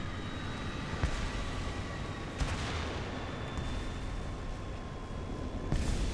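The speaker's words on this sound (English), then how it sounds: "I think that was the HE-177 bomb" An HE-177 bomb goes off in a video game, a heavy, rumbling blast under continuous battlefield roar, with a few sharper cracks breaking through over about six seconds.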